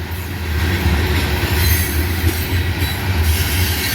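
A CSX freight train passes close by, with a loud continuous rumble of rolling cars, rail noise and faint wheel squeal throughout.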